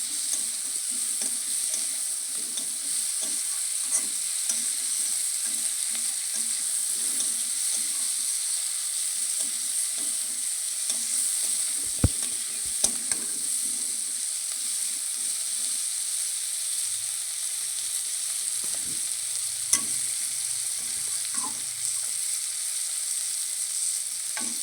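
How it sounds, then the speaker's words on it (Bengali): Fish and cauliflower curry with salt and light spices stir-fried in a pan: a steady close sizzle with frequent scraping, knocking stirs throughout, no voices. "সব কিছু ভালো করে সব কিছু ভালো করে কষিয়ে নেব"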